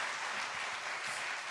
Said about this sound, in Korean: 우리 한번 격려의 박수 쳐주시기 부탁드립니다.